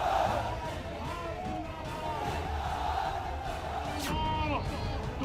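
A large crowd at a night-time political rally in Uttar Pradesh, a continuous roar of voices with whoops and shouts rising above it, plus a whistle-like sweep near the end.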